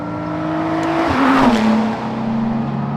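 Cabin noise inside a Praga Bohema while driving: loud engine drone with rising and falling tonal harmonics, swelling into a brief revving surge midway before settling back to a steady hum, with no talking.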